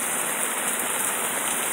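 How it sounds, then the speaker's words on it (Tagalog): Heavy rain pours down outdoors during an event lights-and-sound setup, a dense, continuous hiss of drops hitting surfaces, loud and unbroken throughout. "Kalakas ng ulan."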